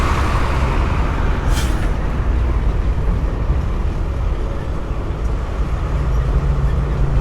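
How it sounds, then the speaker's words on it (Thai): Empty dump trucks roll past in a continuous convoy at an airport construction site, a loud, steady heavy-engine rumble with a brief hiss of air brakes near the start. "ขบวนรถเปล่าที่ทิ้งดินเสร็จเรียบร้อยนะครับ"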